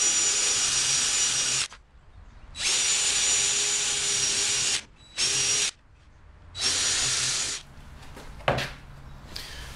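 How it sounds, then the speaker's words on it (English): Power drill boring holes in wood for agility contact table stairs, four loud high-pitched whirring bursts of a few seconds each separated by short pauses, ending with a sharp knock and quiet handling. "I can drill the rest of these holes and know that it's all going to line up."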